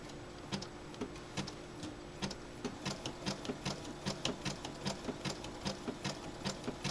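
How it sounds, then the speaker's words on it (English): Sewing machine stitching machine appliqué on a baby boy's quilt: a steady run of evenly spaced, crisp needle ticks and soft mechanical thumps, close and moderately quiet, with no talking. "that's how I do machine applique"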